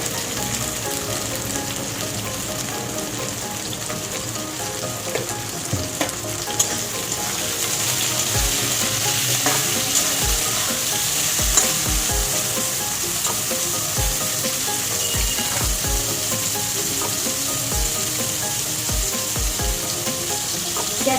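Food frying in a covered pan, a steady close sizzle running throughout with occasional low knocks and clatters from the pan or lid.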